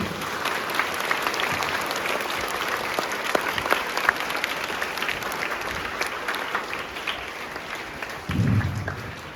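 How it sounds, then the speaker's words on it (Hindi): Students at a school National Sports Day event break into loud, sustained applause, dense clapping from a large crowd that continues steadily and swells briefly near the end. "एक बार अपने लिए जोरदार तालियां बजाइए।"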